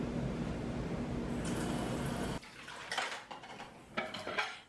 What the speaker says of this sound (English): So when it comes to the dishes, all that I do is get some hot water and a little bit of soap